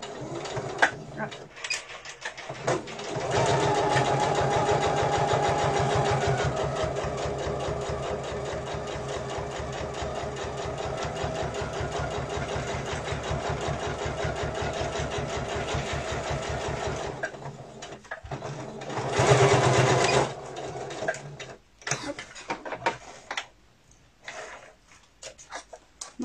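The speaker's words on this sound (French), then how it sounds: "je vais réaliser ma couture à 1 cm du bord, en fait, pour venir cacher ma marge de couture" A sewing machine runs a long steady stitching burst along a seam 1 cm from the fabric edge, loud and close with a fast mechanical tick, then stops and briefly restarts, with a person talking in the gaps.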